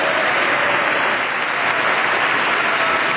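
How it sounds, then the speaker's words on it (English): A large crowd at the 2008 State of the Union address applauds the president at the close of his speech, a loud, continuous, even roar of clapping throughout. "that last burst of applause for the president at the conclusion of his speech"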